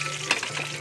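Tulingan (bullet tuna) fish fries in hot oil with a steady, close crackling sizzle and faint pops, with no talking.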